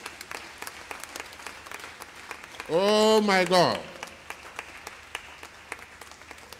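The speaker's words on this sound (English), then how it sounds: "Can you clap on for Jesus for me?" A church congregation claps at a New Year's Day Sunday service, steady rhythmic hand claps running throughout, with a voice briefly exclaiming over them midway.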